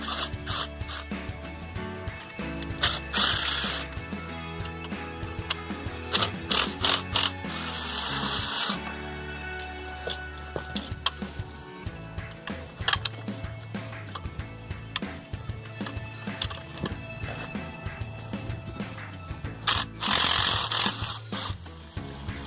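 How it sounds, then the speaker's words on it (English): Impact driver with an extension backing out the bolts on a pool pump motor: loud rattling bursts of hammering at intervals over a steady mechanical hum, close by and with no talk. "To remove it, I'm going to use the impact driver and an extension."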